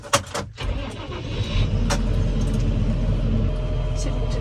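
Fendt tractor diesel engine cranks over and catches after a couple of short sounds, then settles into a loud, steady, close rumbling idle.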